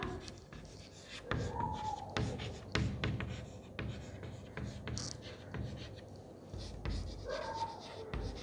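Pen or chalk writing out a geometry theorem in quick, uneven strokes and scratches, close and fairly quiet, with a faint voice in the background.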